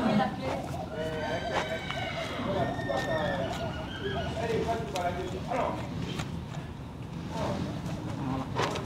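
A horse neighs and its hooves clip-clop nearby in a stable while being cared for, with steady handling noise and people talking over it.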